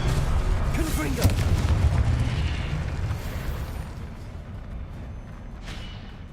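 A Confringo blast spell exploding in Hogwarts Legacy, with a deep rumbling boom that is loudest at the start and slowly fades out, while a voice speaks over the opening.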